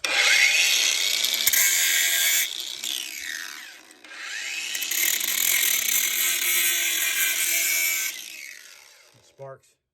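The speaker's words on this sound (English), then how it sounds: "Easiest way to check: grinder wheel." Angle grinder wheel pressed against scrap metal to test for stainless steel: a loud, harsh, sustained grinding screech in two long bursts, each winding down as the wheel slows, with a short thump at the end.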